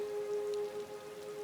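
Steady rain patters softly on a surface, a quiet continuous wash with a sustained piano tone ringing beneath it, no voices.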